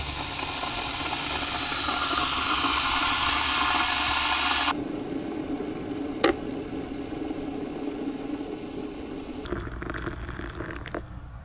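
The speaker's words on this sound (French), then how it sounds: "On va, comme vous pouvez le voir, utiliser une bouilloire électrique." An electric kettle heating water on a DJI power station gives a steady broadband hiss and rumble, a sharp click partway through, then a quieter rushing simmer with a renewed burst of bubbling near the end, all with no voices.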